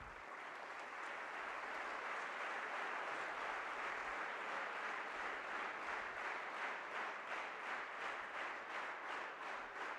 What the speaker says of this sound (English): let's have a big applause for the Honorable Principal and his team